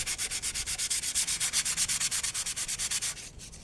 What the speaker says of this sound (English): So now it's just back with your 180 dry.